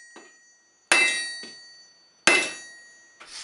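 A hammer working the forge-welded seam of a tomahawk trade axe, giving a few sharp ringing metallic strikes spaced about a second apart, with a lighter tap between them, close and loud.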